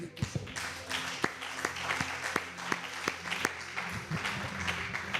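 A church congregation applauds at a Sunday service, sustained clapping from many hands filling the room, with sharp individual claps standing out and voices mixed into the ovation.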